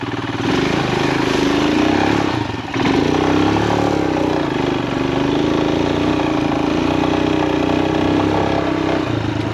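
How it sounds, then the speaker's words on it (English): A Royal Enfield Himalayan 462 big bore motorcycle engine runs loud and close with a steady pulsing throb. It dips briefly once near the start and then carries on unbroken. "You can really feel that engine pulsing"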